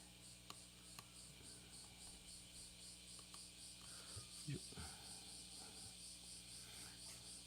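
Cicadas chirp steadily in the background during an indoor oil painting session, a faint, continuous pulsing drone that runs for the whole stretch with a few small handling knocks.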